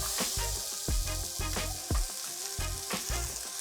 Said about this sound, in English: heat up our pan, add about a tablespoon of oil, and add our onions.